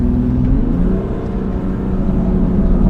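A BMW M2 Competition with a dual-clutch transmission drives with a loud, steady engine drone and road hum from inside the cabin, the pitch stepping slightly as it shifts gears almost seamlessly.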